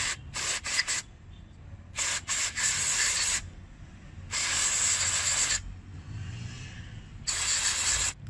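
Aerosol cleaner sprayed onto a car's mass airflow sensor in sharp hissing bursts, several short ones then longer sustained blasts separated by quiet pauses, loud and close.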